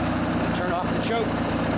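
Lawn mower engine idling while warming up after the choke is turned off, a steady close rumble running the whole time under a man's speech.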